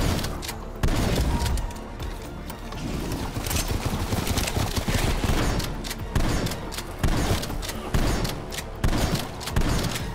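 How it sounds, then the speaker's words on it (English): Stun grenade detonating in Call of Duty: Black Ops Cold War Zombies mode, a loud thudding boom inside a dense, continuous wash of rapid gunfire and explosions with no pause. "Stun grenade out."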